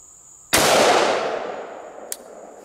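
One sharp, loud crack of a .223/5.56 rifle shot rings out close by and decays over about a second and a half, then a small metallic clink follows.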